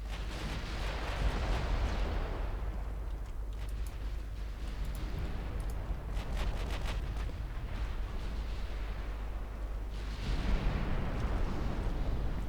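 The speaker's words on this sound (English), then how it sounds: "Got an ammo detonation on Richelieu" A magazine detonation aboard the French battleship Richelieu in Ultimate Admiral Dreadnoughts, a naval game battle: a long, dense rumble of explosions and gunfire that roars on throughout, with sharp bursts stacked on top and a fresh surge near the end.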